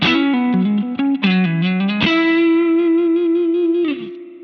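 Spring reverb from a vintage-style guitar effect in Positive Grid Bias FX 2, a sustained electric guitar tone with a loud, shimmering, metallic wash trailing each note, alone and ringing through to a final decaying chord.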